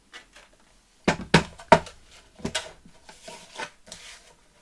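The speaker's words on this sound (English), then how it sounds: "Let's just trim that off." Paper for a journaling tag is trimmed with a few sharp cutting and sliding strokes up close, followed by softer scraping and rustling handling sounds in a quiet room.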